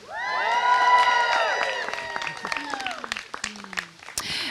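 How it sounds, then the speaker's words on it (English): Wedding guests at a ceremony cheer and applaud, with loud whoops and high sustained shouts at first, then scattered clapping and calls that fade out, ending with a brief burst of noise. "I want to hear one more cheer for love, for family, for friendship, for marriage"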